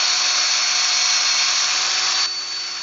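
Sanding a large pitch pine bowl on a lathe with 240 grit abrasive, a loud, steady hiss of paper on spinning wood that drops slightly in level near the end, with no talking.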